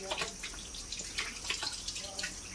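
Spring water runs from a tap into the washing area of a resort in Malaybalay City, a close continuous splashing and trickling stream with small drips and no talk.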